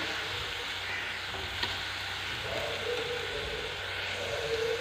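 Onions and garlic frying in a pan, a steady close sizzle with soft occasional stirring movements, continuous and unbroken throughout.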